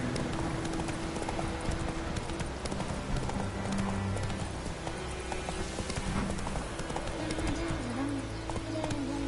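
Horse hooves clip-clop steadily in The Witcher 3, a continuous riding rhythm under a busy mix of tones and faint bird-like calls.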